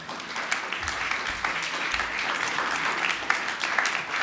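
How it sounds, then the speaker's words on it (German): An audience at an open stage night applauds the next performer, with dense steady clapping from a crowd throughout, slightly reverberant in the room. "Albert, Applaus!"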